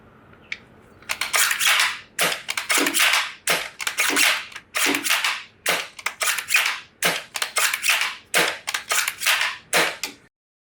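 Novritsch SSG10 airsoft sniper rifle, unsuppressed, firing 0.2 gram BBs: a long series of sharp, loud snapping shots and bolt clacks in quick irregular succession, close to the ear with no talking.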